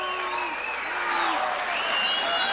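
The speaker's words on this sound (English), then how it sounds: "The crowd is excited." A pro boxing crowd at the end of a fight cheers and applauds in a loud, steady roar, with a commentator's voice talking over it throughout.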